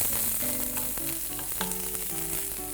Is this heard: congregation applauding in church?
no